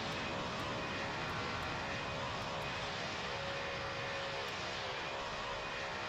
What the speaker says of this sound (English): To take off without even taxiing to the end of the runway